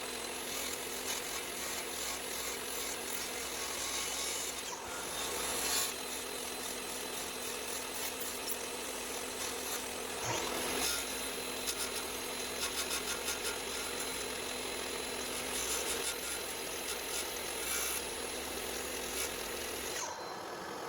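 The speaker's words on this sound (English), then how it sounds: "we're going to just cut it with my miter saw" A miter saw cuts away wood to form a mortise for an easel, a steady, dense, close grinding roar that continues without a break and with no talking.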